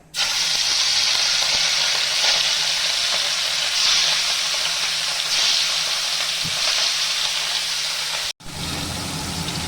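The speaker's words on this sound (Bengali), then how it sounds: "এটা গরম হয়ে গেছে, মাছ কটা দিয়ে দিব।" Loud, steady sizzling and crackling of katla fish frying in hot mustard oil, continuous and close, with a brief clatter near the end.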